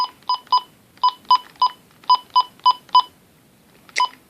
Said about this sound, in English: You probably know when I'm dialing time and temp.